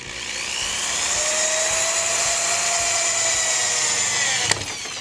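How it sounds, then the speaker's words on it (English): A power drill drives long self-tapping screws for a window blind mount, its motor whining steadily and close for several seconds before stopping with a sharp click. "I'm going in with self-tapping screws"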